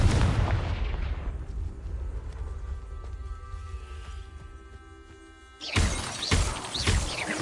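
Confringo blasting spell exploding in the video game Hogwarts Legacy: a loud burst with a shattering crack and rumbling decay, then a second sharp, noisy blast near the end, close and without talk.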